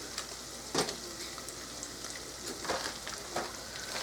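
Burger meat sizzles and fries in a pan with a stirred-in seasoning packet on a burner turned down, a quiet, continuous crackle with a few sharper pops and spatters and no talking.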